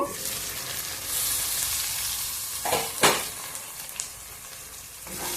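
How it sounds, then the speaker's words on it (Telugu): Gongura leaves and chicken fry in hot oil for a gongura chicken curry, giving a steady close sizzle, with a few louder spatters and stirring scrapes near the middle. "గోంగూర కూడా ఇప్పుడు ఆయిల్లో బాగా మగ్గిపోయింది కదా."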